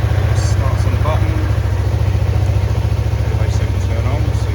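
A 2020 Yamaha MT-03 ABS motorcycle with about 4,800 miles, started on the button and left idling, giving a steady, close, low pulsing engine throb while someone talks over it.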